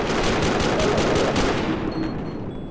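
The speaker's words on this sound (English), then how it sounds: "Shots fired by the police." Police gunfire in GTA V on a FiveM server, a rapid burst of dense shots rattling loudly for about two seconds before tapering off.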